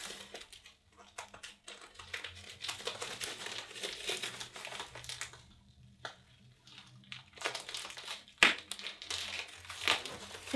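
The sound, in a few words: adhesive tape crinkling while pulled off arm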